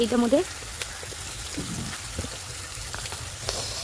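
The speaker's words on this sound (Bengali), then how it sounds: "লবণ দিয়ে দেখি না ভাজা হচ্ছে" A soft, continuous sizzle of onions frying in a pan with salt, with faint crackles and a brief voice at the start.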